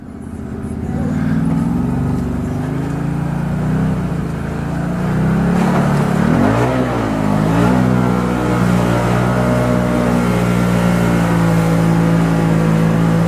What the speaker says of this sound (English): All right, we're in mud mode. We're in 4-wheel. All right, let's roll.